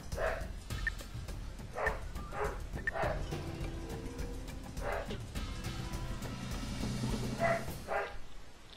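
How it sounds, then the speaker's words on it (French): Dogs bark from a distance, giving a handful of short, faint yaps at irregular intervals over a steady background hum. "à chaque vidéo, vous entendez mes chiens qui aboient"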